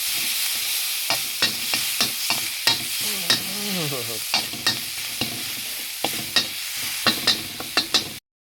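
Steady sizzling of tofu frying with repeated sharp metallic scrapes of a spatula against a wok, stirring in an irregular rhythm throughout.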